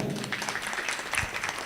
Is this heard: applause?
yes